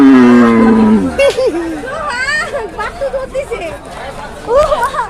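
A cow at a busy cattle market gives a long, loud moo at the start, followed by chattering voices and crowd babble with further animal calls mixed in.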